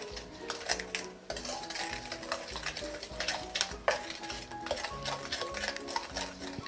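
Margarine and egg for raisin cookies are stirred in a bowl, a quiet run of repeated scraping and clinking strokes against the dish, with no one speaking.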